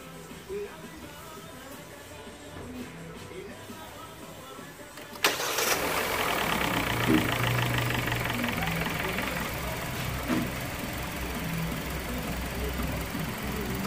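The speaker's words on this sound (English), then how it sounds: "Go ahead and crank the car." A Hyundai Elantra engine cranks and catches with a sudden roar after an oil change, then settles into a steady idle that continues to the end.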